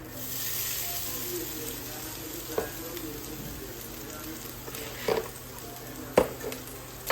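Steady soft sizzle of spices, cardamom and pepper roasting in a pan for Kerala varutharacha kadala curry, a constant hiss with a few faint clinks of stirring.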